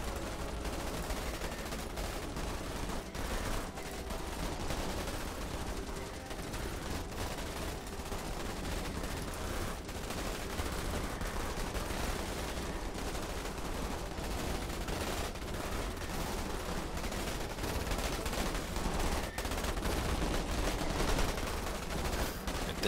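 Constant dense gunfire fills a sci-fi real-time strategy battle in Starship Troopers Terran Command, a continuous rapid crackle of rifle and machine-gun shots as barrels are targeted, with no pauses.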